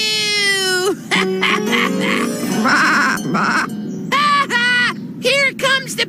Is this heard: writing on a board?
no